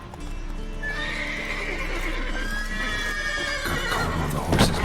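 Horses in The Witcher 3 give a long, loud whinny over a steady background, with hooves clopping and stirring close by near the end.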